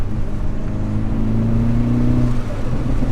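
Hyundai Veloster N fitted with an AEM cold air intake, engine droning steadily in second gear around 3,000 RPM, a loud continuous low hum with a slight rise in pitch, heard from inside the car.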